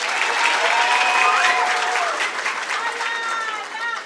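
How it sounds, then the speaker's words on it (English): A graduation ceremony audience applauds steadily and loudly, with cheers and voices mixed into the sustained clapping. "Let's give a round of applause again."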